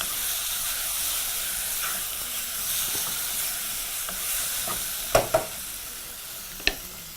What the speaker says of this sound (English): And now this will continue to fry continuously, of course proceeding to mix with a spoon